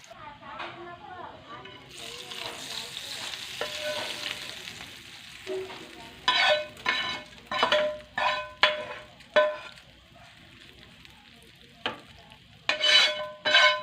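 Hot tempering sizzles as it is added to ivy gourd roti chutney, followed by repeated scraping stirs in bursts against the pan, with a soft voice speaking faintly in the background.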